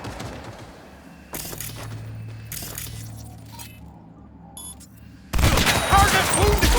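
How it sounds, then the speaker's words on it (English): Gunfire in the Cyberpunk 2077 video game: a quiet stretch with faint shots and a low hum, followed by a sudden loud burst of rapid, dense shooting filling the final seconds. "Opening fire."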